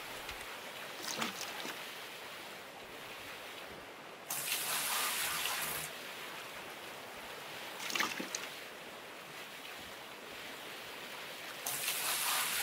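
Buckets of water poured out in the Gold Mining Simulator video game, several bright splashing gushes of a few seconds each separated by quieter ambient water, faint and without talk.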